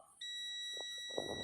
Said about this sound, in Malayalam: ബീപ്പ് സൗണ്ട് ഉണ്ട്, റെസിസ്റ്റൻസ് ഒന്നും കാണിക്കുന്നില്ല.